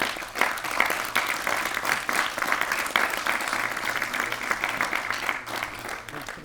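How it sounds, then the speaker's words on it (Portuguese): Audience applause at an informal talk gathering, a steady dense wash of many hands clapping throughout, moderately loud and without voices. "Vamos dar palmas à excelente."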